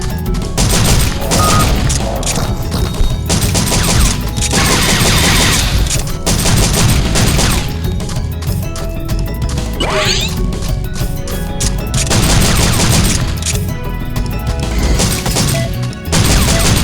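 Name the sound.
gunfire in the video game Dino Stalker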